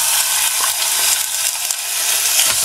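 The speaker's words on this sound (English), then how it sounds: "Flame's on its way, so I'm gonna chuck the bacon in now." Bacon sizzling loudly in a Trangia camping stove pan, a dense, close, continuous hiss and crackle with no talk over it.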